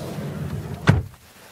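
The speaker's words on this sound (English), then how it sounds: "The sliding doors are rather heavy to close from the inside" Sliding side door of a 2022 Peugeot e-Rifter electric van shutting with a single heavy thud near the end of a brief low rumble of the door rolling along its track.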